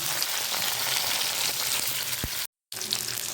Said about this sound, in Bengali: ফুলকপিগুলো একটু লাল লাল করে ভেজে নেবো